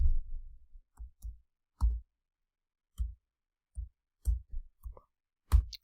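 Typing on a computer keyboard, a series of separate dull key taps in irregular bursts, close and fairly quiet, no voices.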